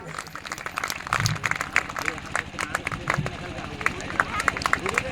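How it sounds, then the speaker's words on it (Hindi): Rally crowd at an Ambedkar Jayanti gathering clapping loudly, dense irregular claps continuing steadily with voices and crowd noise mixed in. "जोरदार तालियां साथियों"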